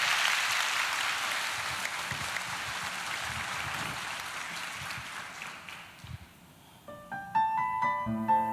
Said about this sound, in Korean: 우리 박수로 청해 듣도록 하겠습니다